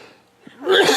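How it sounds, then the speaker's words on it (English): A person with a cold lets out a single harsh, breathy cough near the microphone, short and loud after a brief quiet intake. "dealing with this cold and the cough has been horrific"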